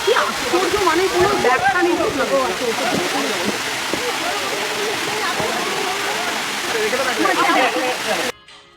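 Midubanta waterfall at Daringbadi in Odisha, in winter, pours in a loud, steady roar of rushing and splashing water that lasts nearly the whole stretch, with voices faintly mixed in, before cutting off abruptly.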